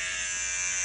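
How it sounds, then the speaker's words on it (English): An electric shaver buzzes steadily and loudly at close range, a continuous bright motor whine with no pauses, heard alone in a home bathroom setting. "And grab your shaver."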